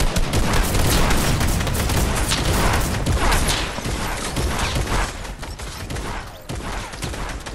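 Rapid gunfire and booming shots in Fortnite, dense overlapping reports with sniper fire, loud and continuous throughout with a busy game soundscape.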